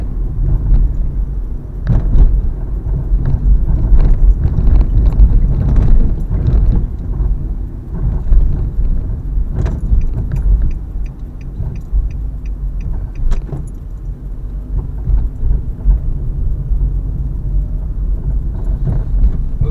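A car rolls through Montreal traffic on Saint-Laurent Street, with a steady low road and engine rumble, occasional clunks and rattles from bumps, and passing traffic swelling and fading around it.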